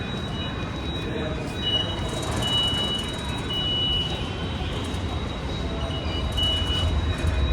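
Metro train inside a Mumbai station, a steady loud rumble of rolling cars and rail noise with faint tonal squeals and beeps, people's voices mixed low into the din.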